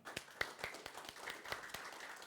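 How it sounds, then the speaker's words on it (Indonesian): A scattered round of hand clapping from a church congregation during a Sunday service, uneven sharp claps at varied spacing over a low room murmur, brief and moderately faint. "Coba tepuk tangan."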